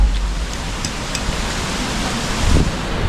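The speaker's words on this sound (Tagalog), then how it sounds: "Tapos ang lakas ng hangin, no?" Strong wind roars steadily as broad, rushing noise buffeting the microphone, with a gust swelling near the end and no voices.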